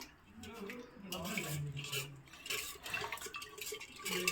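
Milk mixed with jaggery syrup stirred in a pot, soft scraping and swishing strokes of a spoon close by, fairly quiet, with faint background noise and no clear talk.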